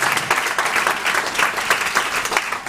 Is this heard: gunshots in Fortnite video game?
no